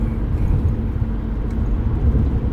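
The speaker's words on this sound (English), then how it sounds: "driving through Jersey, especially Newark" A car drives through Newark, New Jersey, heard as a steady low rumble of engine and road noise from inside, with no voices.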